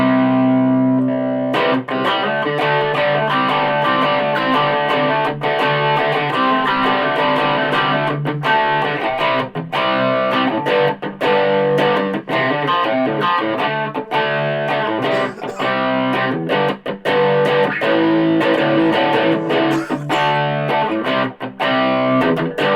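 Electric guitar played through a Carlton HGS100 amp on the lead channel with preamp 2 engaged for extra distortion, giving a loud, sustained, saturated tone with steady chords and notes running throughout.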